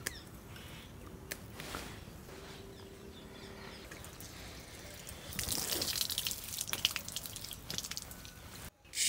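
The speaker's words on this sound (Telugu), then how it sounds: "ఈ బియ్యాన్ని శుభ్రంగా కడుక్కొని ముందు మనం అన్నం రెడీ చేసుకుందాం" Rice being washed in water in a home kitchen, with soft dripping and trickling, a faint background hiss, and a louder burst of splashing and sloshing in the last few seconds.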